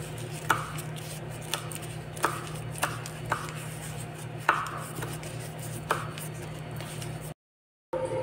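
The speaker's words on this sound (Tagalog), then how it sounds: "Ito namang cheese or juban ang ating hihiwain." Cheese being cut with a knife on a board for samosa rolls, a series of about eight sharp, distinct chops at uneven intervals over a steady low hum, fairly quiet and close, followed by a brief silence.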